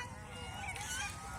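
Geese on a goose farm give a few nasal, drawn-out honks, fairly faint and short, over a low rumble of background noise.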